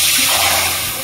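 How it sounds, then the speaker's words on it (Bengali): Water is poured into a kadai-style cooking pan on a lit stove, a brief loud gushing splash lasting about a second with no talk. "জল দেব।"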